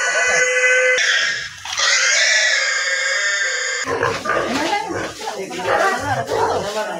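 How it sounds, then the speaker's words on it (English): Pigs squeal and grunt at a piggery in the first few seconds, loud and close, before overlapping voices and general commotion take over. "Oh, you can hear the sounds of the pigs."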